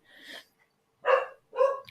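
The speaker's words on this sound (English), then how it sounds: "goddamn dog." A dog nearby gives three short, sharp barks spaced apart, with brief silences between them and no talking.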